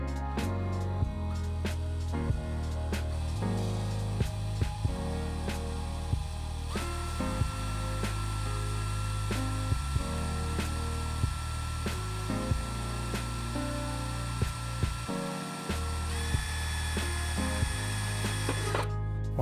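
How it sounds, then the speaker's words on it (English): A variable-speed power drill, held at 90 degrees and run very slowly, bores through oiled metal for a magnetic foam miniature carry case. The motor whirs steadily throughout, with small periodic clicks and a brief pause near the end. "We're going to hold our drill at 90 degrees, variable speed, and we're going to go very slow."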